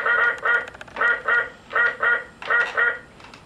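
A toy or recorded duck quacks in quick, evenly spaced bursts, about a dozen nasal calls in short groups, clear and close with nothing else around.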